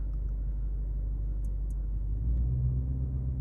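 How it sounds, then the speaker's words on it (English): A Lamborghini Urus Performante engine rumbles steadily at low pitch, then the exhaust note swells and deepens as it revs up near the end. "Whoa, you can hear the exhaust change."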